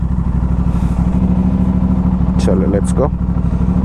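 Motorcycle fitted with a GPR Ghost full exhaust system with the DB killer installed, running in a steady loud throb throughout, with someone talking briefly over it.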